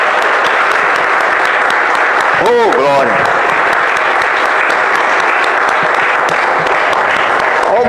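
Church congregation at a worship service applauding loudly and continuously, dense close clapping with a voice calling out briefly over it.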